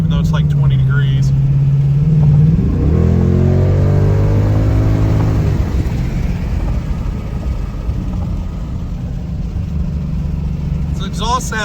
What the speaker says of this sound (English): So exhaust sounds really, really good.